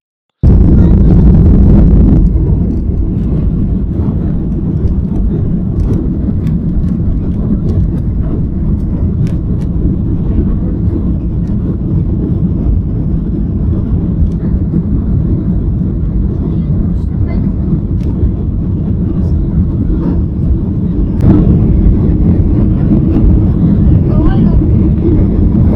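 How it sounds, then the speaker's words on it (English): Airplane takeoff heard from inside the cabin on a flight to Budapest: a loud, steady engine roar fills the whole stretch with little change, swelling slightly near the end. "very nice steady filming takeoff there"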